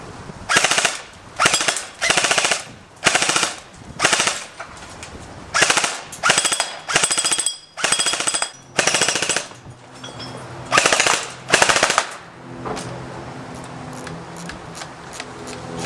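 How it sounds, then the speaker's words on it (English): An Echo 1 XK airsoft gun fires full auto in short, loud, rapid mechanical bursts, about a dozen in a row close up, followed by a quieter mechanical whir. "Now we're going to full auto."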